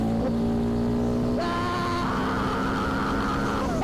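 Ducati Hypermotard SP motorcycle at full throttle on a highway pull, a loud continuous engine drone that climbs in pitch with a gear change partway through, with wind noise.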